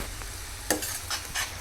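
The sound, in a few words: tomato puree frying and being stirred in a pan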